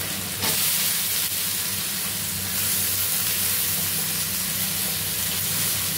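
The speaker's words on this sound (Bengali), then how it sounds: "পেঁয়াজটাকেও একটু ভাজা ভাজা করে নেব" Sliced onions fry in hot oil in a pan for a Bengali pomfret fish curry, giving a steady, dense, close sizzling hiss that continues unbroken throughout with no voices.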